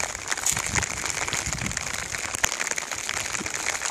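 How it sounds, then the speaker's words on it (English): Hard rain pours down on campers during a thunderstorm, a dense steady hiss of drops pattering on ponchos and plastic rain bags, close and continuous with scattered crackles and no talking. "It's raining really hard on us right now."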